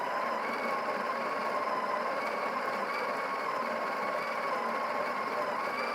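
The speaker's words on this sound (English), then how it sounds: "I'm going to hit the little portafilter icon to begin the grinding process" The built-in grinder of a Breville espresso machine grinds coffee into the portafilter with a steady, close, continuous motor whir and buzzing hum that holds even throughout.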